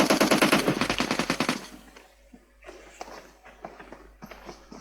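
Rapid automatic gunfire from the mobile battle royale game PUBG Mobile, a loud, steady burst of shots for about two seconds, then fainter scattered game sounds and movement.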